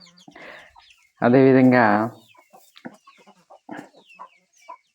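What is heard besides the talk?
chickens clucking in a farm field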